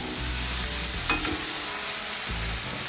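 Burgers sizzle loudly and continuously on a Blackstone griddle, with a quick scrape and clack of a spatula flip near the middle, heard close up.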